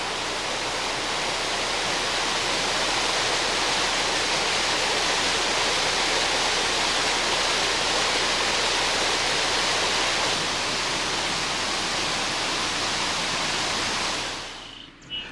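Laurel Falls, a waterfall in the Smoky Mountains running low in summer beneath a dense forest canopy, gives a steady, even broadband rush of falling water that holds throughout before cutting off abruptly at the end.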